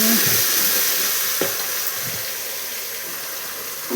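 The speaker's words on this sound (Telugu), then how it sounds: "కొత్తిమీర పేస్ట్ వేసేసుకున్నాం. బాగా కలుపుకుందాం." Coriander paste is stirred in hot oil in a pan for mutton curry, giving a loud, steady sizzle and frying hiss close up, with a few soft scrapes of the spoon through the paste.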